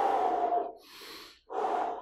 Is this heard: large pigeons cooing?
no